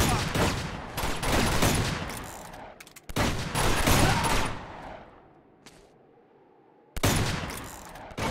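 Pistol gunfire in the video game Uncharted 2: Among Thieves, loud rapid shots in dense bursts broken by short quiet gaps.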